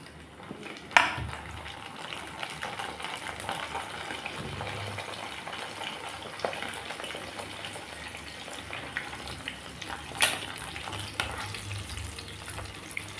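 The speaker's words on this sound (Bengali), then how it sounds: "তেলটা গরম হয়ে গেছে, যে ছেড়ে দিচ্ছি নিমকিগুলো।" Nimki dough pieces frying in hot oil, a sustained bubbling sizzle with occasional sharp clatters and splashes, close and moderately loud with no talking.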